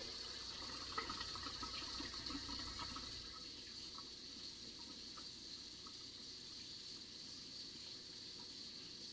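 Hands are washed under a running tap, a steady faint rush of water that softens slightly partway through, with no speech.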